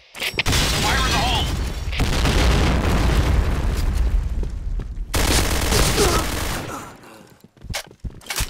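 Loud, dense blasts and rapid gunfire fill a Project Blackout video game match, with a heavy grenade-like explosion rumbling for several seconds before cutting off, followed by scattered short bursts and clicks.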